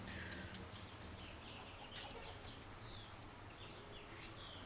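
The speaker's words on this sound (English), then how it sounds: "enjoying the beautiful birds that come and gather around the water bath" Garden birds gathered around a water bath in Uganda, calling and chirping in short scattered bursts at a moderate distance, over a steady low outdoor hum.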